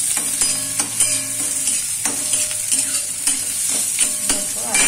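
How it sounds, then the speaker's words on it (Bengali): Chopped onions sizzling in a pan while a spatula stirs and scrapes them in repeated strokes, close and loud over a constant frying hiss, no talk. "এবার পেঁয়াজটা লাল লাল করে ভাজা ভাজা করবো।"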